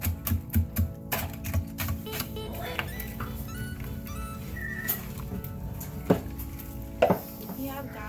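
Black pudding mixture with seasoning is stirred in a bowl, giving quick clattering scrapes and knocks that come close and fairly loud, with a few sharper clinks toward the end.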